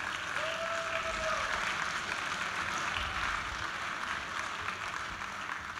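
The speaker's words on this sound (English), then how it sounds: "Can you give a round of applause for our volunteers?" Audience applause for volunteers at a live talk: steady, dense clapping from a sizable crowd fills the whole stretch at an even level, with no voices over it.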